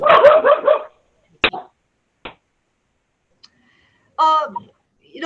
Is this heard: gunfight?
no